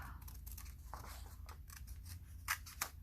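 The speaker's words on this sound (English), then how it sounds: "We'll cut our corners off" Scissors snip the corners off a cake mix box in a series of quick, close, crisp cuts, faint and alone with no talking.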